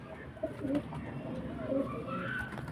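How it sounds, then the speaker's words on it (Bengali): A male pigeon of a show breed gives a soft, low cooing, two rolling coos over a steady murmur of background noise, close by and moderately loud. "এই যে হচ্ছে নর পায়রা এটা।"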